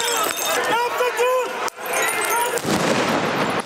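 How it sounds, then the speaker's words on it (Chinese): Explosions and sharp bangs during chaotic street protests in Athens, Greece, where petrol bombs and tear gas are thrown between protesters and police. Abrupt blasts punctuate a dense, noisy crowd scene, with voices shouting throughout. "希腊雅典街头爆炸声不断"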